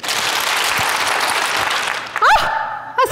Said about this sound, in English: on the count of three, I want you to clap seven times as fast as you can